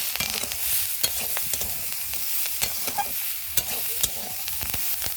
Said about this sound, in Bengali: হলুদ গুঁড়ো এবং লঙ্কার গুঁড়ো অল্প করে দিয়ে দেবো। দিয়ে ভালো করে নাড়াচাড়া করবো।